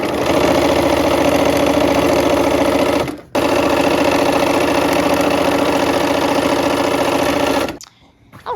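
A sewing machine stitches fabric in a fast, steady, close mechanical hum, running continuously for about three seconds, pausing briefly, then running again for over four seconds before stopping.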